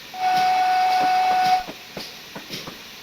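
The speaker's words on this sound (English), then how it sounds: "Let's have a bit more whistle, shall we?" A GWR pannier tank steam locomotive on the Falmouth branch in Train Simulator Classic sounds one long, loud, steady whistle for about a second and a half, then cuts off to a soft hiss with light rhythmic chuffing beneath.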